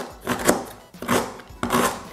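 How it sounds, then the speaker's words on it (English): A knife rough-chops fresh ginger on a cutting board for Jamaican ginger bulla, three quick bursts of close, crisp chopping with short pauses in between. "I'm just gonna cut the ginger into bite-sized pieces or smaller pieces"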